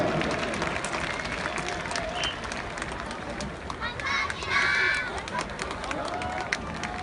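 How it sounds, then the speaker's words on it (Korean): A baseball stadium crowd at a Lotte Giants season opener applauds a children's cheer squad performance, broad clapping and cheering mixed with announcer talk and stadium noise throughout. "여러분 다시 한번 큰 박수 부탁드리도록 하겠습니다"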